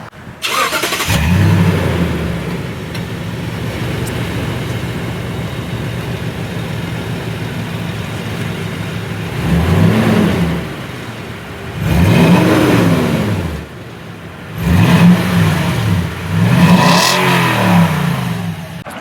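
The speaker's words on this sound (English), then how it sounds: "let me go ahead and get the truck started up for you so you can hear that" A 2020 Toyota Tundra TRD Sport V8 pickup cranks and fires, settles into a loud, steady idle, then gets several sharp throttle blips that rise and fall in quick revs near the listener, alone with no talk.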